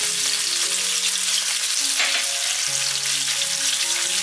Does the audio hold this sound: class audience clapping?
no